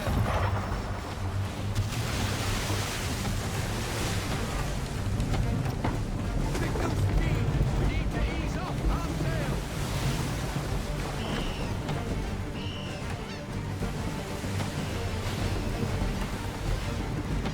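Sailing ship at sea in Assassin's Creed III, a dense wash of wind, rain and crashing waves with rumbling thunder, loud and constant, with a voice heard briefly over it.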